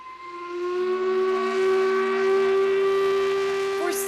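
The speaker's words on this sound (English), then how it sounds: "the whistle at the paper mill has blown to signal shift changes and lunch" A loud, sustained paper mill steam whistle blows with a steady tone over a hissing background, sounding strong and continuous throughout.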